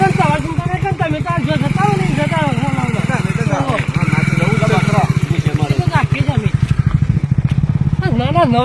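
An accident-damaged motorcycle's engine running with a steady, rhythmic low putter throughout, close by and partly under loud, continuous talking from several people.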